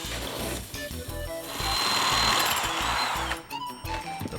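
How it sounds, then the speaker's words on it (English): A power drill bores holes through ceiling drywall. A whirring motor runs in bursts and rises into a sustained, grinding cut partway through, then winds down, close by with no talking. "Holes are bored down through the ceiling drywall."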